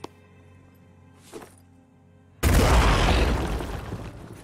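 A grenade explosion in the tactical game Phoenix Point: after a faint thunk and a brief quiet, a sudden loud blast erupts and rumbles on for about two seconds.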